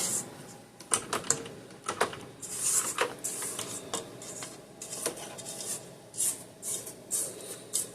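A spatula scrapes a peanut butter and butter cookie mixture off the bottom and sides of a mixing bowl, giving repeated close scraping and knocking strokes in an irregular rhythm with no voice.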